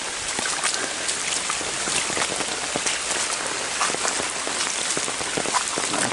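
Rain falls through the woods in a loud, continuous hiss of drops pattering on leaves and ground, steady from start to finish with no talking.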